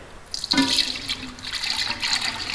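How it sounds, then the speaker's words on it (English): Oil-based paint pours into a container from a can, a thick liquid splashing and gurgling after a short pause, close and fairly quiet with no talking. "We're going to get the paint and we're going to pour it in there."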